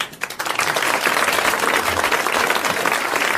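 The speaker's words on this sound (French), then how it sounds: "Et vous allez applaudir comme il le mérite, Monsieur Rigaud de Famard" Studio audience applause on a 1980 French television show, building quickly after a brief pause into a dense, loud, steady round of clapping with no talk over it.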